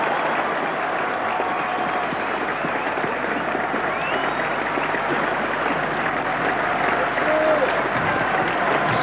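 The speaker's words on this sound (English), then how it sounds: "Great roar of applause goes up." A cricket crowd at a 1982 England versus Pakistan Test match breaks into sustained applause, a dense, even wash of clapping from a large distant crowd that lasts throughout.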